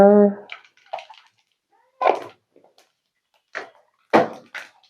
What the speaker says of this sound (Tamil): எண்ணெய் நல்லா சூடறித்து கடுகு போடுவோமா.